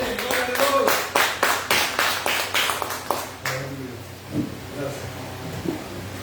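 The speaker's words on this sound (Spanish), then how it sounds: "¿Cuánto le damos palmas al Espíritu Santo?" Church congregation claps hands together in a brisk, steady rhythm of loud close claps for about four seconds before fading, followed by someone speaking.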